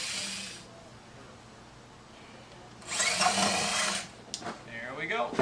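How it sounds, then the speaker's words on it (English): Two short bursts of a high-pitched drill whirring slowly into the wooden end of a guitar for an end pin jack, the second louder and longer, with quiet pauses and a few clicks between. "making sure to keep perpendicular to the end of the guitar, you're going to drill slowly into it"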